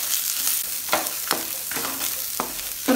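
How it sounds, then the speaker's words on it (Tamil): Bottle gourd sautés with onion and garlic in a pan for chutney, a steady close sizzle broken by a few scraping stirs of the spoon. "இதையும் சேர்த்து நல்லா வதக்கி விட்டுக்கலாம்."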